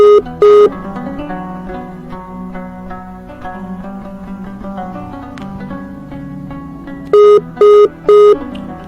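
Short electronic telephone tones from a phone call being placed: a pair of quick beeps at the start, then three evenly spaced beeps near the end, each clear and loud over a steady bed of background music.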